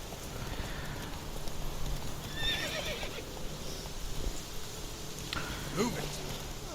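Horse in The Witcher 3 video game: quiet neighing and whinnying with soft hoof clip-clop beneath steady game ambience, a short whinny near the end.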